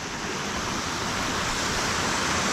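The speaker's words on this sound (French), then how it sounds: "il y a quand même un courant, un torrent qui en sort" Mountain torrent pouring out of an old mine entrance, a dense, steady roar of rushing water, loud and close, with no let-up.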